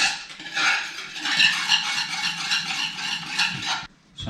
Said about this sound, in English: we can just stir our sauce around a bit